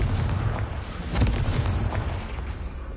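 A Confringo fire spell explodes in Hogwarts Legacy, a loud, sustained booming rumble with a crackling edge that rolls on for about three seconds.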